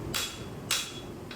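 A farrier strikes a horseshoe with a hammer on an anvil, two sharp metallic blows about half a second apart, close and bright, with a third beginning as the sound ends.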